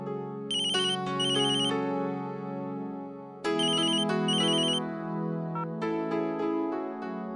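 A mobile phone ringtone plays a bright electronic melody in two repeated phrases, loud and close, with a short pause in between and no talking.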